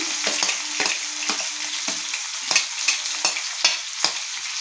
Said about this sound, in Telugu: ఇదిగోండి ఉల్లిపాయలు పచ్చిమిరపకాయలు వేస్తున్నాను